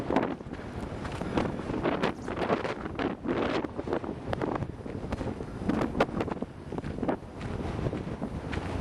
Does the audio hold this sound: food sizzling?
no